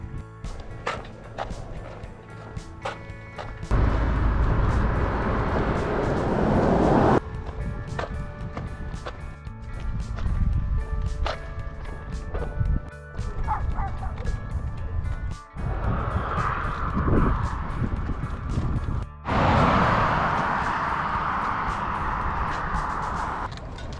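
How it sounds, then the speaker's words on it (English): Cars rush past on a roadside, several separate whooshing passes that swell and fade over rumbling traffic noise, some near and loud, others softer. "You can see where cars drive by."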